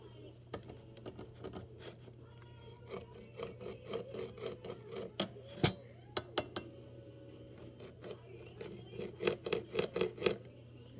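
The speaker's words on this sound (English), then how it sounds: "Now it's time to cut the quesadilla." Quesadilla cut with a knife or scissors, with irregular crunchy scraping cuts and sharp clicks against a plate or board over a low steady hum, close by with no talk.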